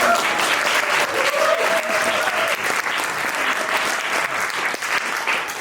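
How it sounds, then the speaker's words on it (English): Warm audience applause at a grassroots public lecture, a dense steady wash of many hands clapping continuously at close range for the whole stretch without letting up. "give a warm applause to Noah Jansma"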